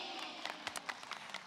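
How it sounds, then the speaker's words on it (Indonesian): Scattered hand claps from an audience at a religious gathering, faint and brief, a handful of sharp claps rather than full applause. "Tepuk tangan dulu."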